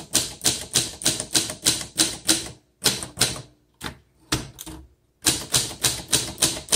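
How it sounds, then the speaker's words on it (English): A 1960 Adler Primus portable typewriter typing in steady bursts of close, crisp key strikes, with a few short pauses between runs and no talking. "this is considered a portable typewriter"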